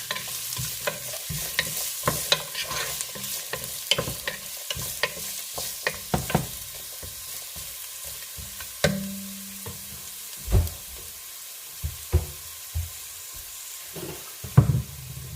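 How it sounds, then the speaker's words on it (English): Onions, garlic, celery and carrots sizzling in a pan for Italian wedding soup, stirred with frequent scraping clatters that thin out into occasional knocks over a soft, steady fry. "onions, garlic, celery, and carrots. So we'll just mix it all up."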